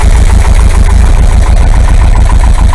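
A VW 2-litre air-cooled engine idles at operating temperature, loud and close, with a steady, rapid low-pitched rumble and no talk over it.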